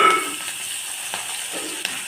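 Onion dropped into hot oil with cumin seeds in a pan just used for frying crab, a steady close sizzle with a few soft stirring knocks, alone without talk.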